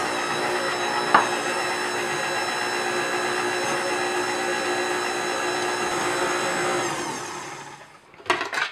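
An electric mixer blending cubed butter into dry ingredients for green tea matcha cupcakes runs as a steady close whirring drone, with a small knock early on, before winding down and stopping, followed by a few clattering bowl noises.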